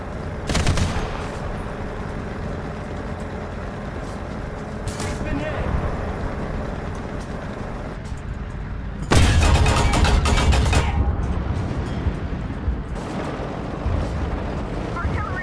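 Artillery shells land in the War Thunder tank game as a long, loud burst of rumbling explosions. Scattered earlier gunfire and game noise come first, with a voice talking over it.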